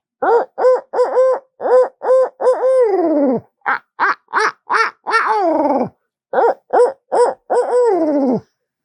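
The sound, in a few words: owl hoot imitated by national champion turkey caller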